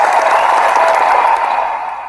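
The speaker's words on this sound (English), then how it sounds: "So let's give him a round of applause." Dense applause sounds loud and close, a steady wash of clapping that fades out gradually toward the end, with no voices on top.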